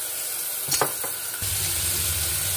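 Extra virgin olive oil sizzling in a pan, a close steady hiss with a few light clicks early on, then a low hum joining beneath it, with no voices.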